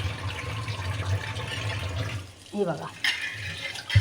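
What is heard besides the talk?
rinsing a cleaned tawa under a running water tap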